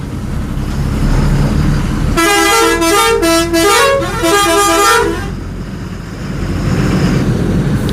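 A vehicle horn blares on a highway in one sustained, loud multi-tone honk lasting about three seconds, set against steady road and engine rumble before and after.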